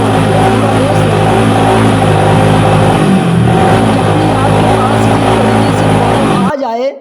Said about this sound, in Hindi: जैसे इस बाइक का मैं पूरा रेस लेता हूँ तो गाड़ी बहुत ज़्यादा मिसिंग करती है